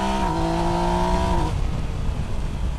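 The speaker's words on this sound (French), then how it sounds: "J'ai, je dirais, rarement eu un shifter aussi doux en passage de rapport." A Yamaha Niken GT three-wheeled motorcycle's engine drones loudly under wind noise, its rising pitch dropping sharply as the quickshifter snaps through a gear change mid-ride.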